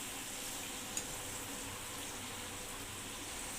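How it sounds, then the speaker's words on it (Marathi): Eggs shallow frying in oil for an egg masala curry, a faint, even sizzle running steadily with one small knock near the start, quiet and without speech. "अंडी व्यवस्थित शॅलो फ्राय करूया दोन ते तीन मिनटे आपल्याला ही अंडी यामध्ये परतवून घ्यायची आहेत"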